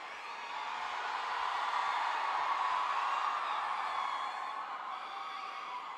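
Large crowd cheering, applauding and whistling at a Tamil film's song launch event, a steady broad roar holding loud for several seconds with no voices speaking over it.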